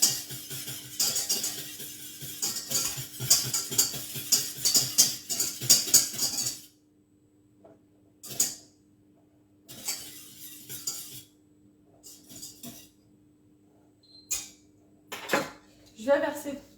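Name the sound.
pouring and scraping a mixture into a small container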